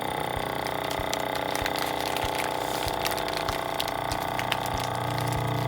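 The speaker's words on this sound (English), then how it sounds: "And it will vacuum seal the pasta perfect." A FoodSaver vacuum sealer on its gentle setting seals a bag of pasta, giving a continuous mechanical pump drone with rattling, clicking crackles throughout, loud and close with no talking.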